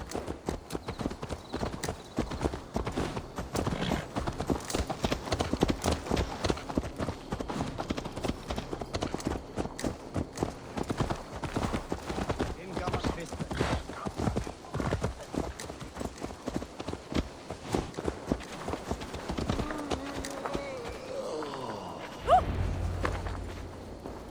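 Horse hooves clip-clop in steady rhythm across ground in the video game Assassin's Creed Valhalla, a long run of close, repeated hoofbeats with a brief whinny and a heavy thump near the end.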